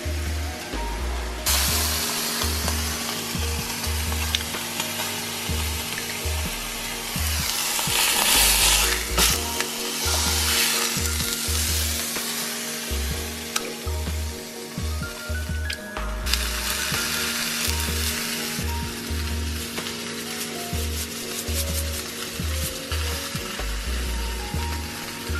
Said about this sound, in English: Our pork's chops have been seared.